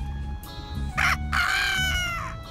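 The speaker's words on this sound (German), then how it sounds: "Das war schon der zweite Hahnenschrei." A cartoon rooster in the adventure game Ghost Pirates of Vooju Island gives a loud, near cock-a-doodle-doo crow, rising and drawn out, with no talk over it.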